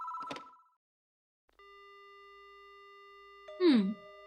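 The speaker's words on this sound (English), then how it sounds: "The only sound I hear is a dial tone." A short burst of noise and a beep, then a steady electronic telephone dial tone in Spirit Hunter: Death Mark hums alone before a brief swooping sound cuts in.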